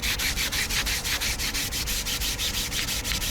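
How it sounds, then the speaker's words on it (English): Rocket airframe parts are hand sanded in brisk back-and-forth strokes, a rhythmic rasping scrape repeating about every fifth of a second, close and steady with no talking. "This is also the fourth time at this point that we had to do a significant amount of hand sanding"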